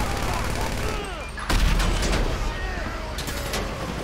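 Gunfire in the GTA V story mode video game: bursts of rapid automatic shots rattle loudly over game background noise, with a heavier blast partway through.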